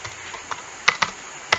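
Computer keyboard typing while writing Python code, a few close crisp key clicks spaced unevenly over a quiet background, with a quick pair of taps near the end.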